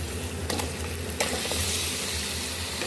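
Chicken fries in a pan for haleem, a dense, steady sizzle filling the background with a few sharp clicks and scrapes of stirring near the start, close and continuous throughout.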